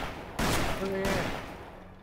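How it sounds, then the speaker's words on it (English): Gunfire in the Western shooter Call of Juarez: Bound in Blood, a sudden loud burst of shots that swells in and then decays, with a voice talking over it. "What you shooting?"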